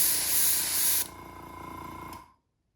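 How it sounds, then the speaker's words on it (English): A steady airbrush hiss sprays Jo Sonja blue-green pearlescent paint thinned with water for about a second, then continues as a softer, lower spray before cutting off. "Jo Sonja blue-green in my airbrush with just water"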